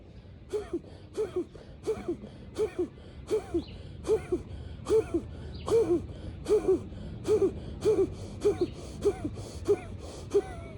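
Kapalbhati yoga breathing: a steady train of about fifteen forceful, rapid nasal exhalations, sharp breathy bursts evenly spaced roughly every two-thirds of a second, close and fairly loud with no talking.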